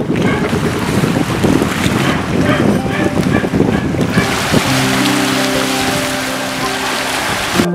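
A boat travels along a river in the rain. A steady, loud rush of rain and wind noise washes over everything, and an engine drone comes in during the second half.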